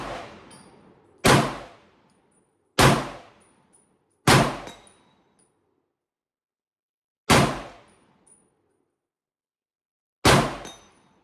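Five sharp, loud M1 Garand .30-06 rifle shots strike a steel plate hung on chain, each a ringing clang that decays quickly, spaced irregularly a second or more apart with silence between.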